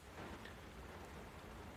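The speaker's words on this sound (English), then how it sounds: "the rain is just pounding and pounding down where I'm at." Heavy rain from Hurricane Matthew pounding down in a steady, dense, broadband wash with no break, fairly faint overall.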